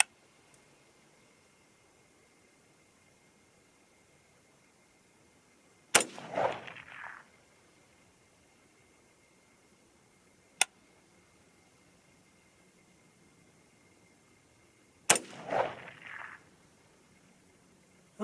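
Two loud, sharp gunshots from a .223 Remington AR-15 rifle crack several seconds apart outdoors, each followed by a brief rolling echo, with a faint click between them.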